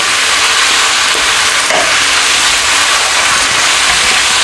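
Sweet and sour pork with ketchup being stirred in a hot pan for a Thai home-cooked dish: loud, continuous sizzling and frying with spatula scraping throughout, no talk.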